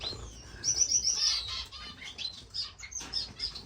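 Parrot finches and star finches chirp busily in an indoor bird room, a dense stream of high, overlapping tweets and calls with faint wing flutters nearby.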